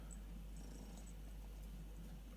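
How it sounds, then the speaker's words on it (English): A kitten purrs softly in the background, a low steady continuous rumble running evenly throughout without any talking over it. "So that's my kitten"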